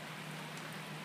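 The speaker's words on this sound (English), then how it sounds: "Currently, we're getting heavy rain and thunderstorms." Heavy rain during a winter thunderstorm hisses in a dense, steady wash of drops striking surfaces, continuous and fairly loud across the short moment with no thunder or voices.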